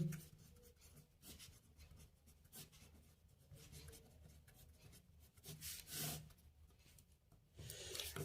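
Faint, scratchy strokes of handwriting on a board or paper during a maths lesson come in short irregular bursts of rubbing, fairly quiet and with no voice over them.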